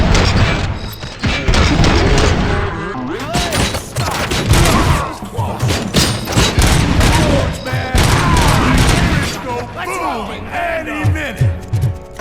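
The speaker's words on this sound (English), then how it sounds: "Am I hearing gunshots?" Video game RoboCop: Rogue City combat: dense, loud rapid gunfire bursts and booming explosions nearly continuously, with game voices shouting over the battle.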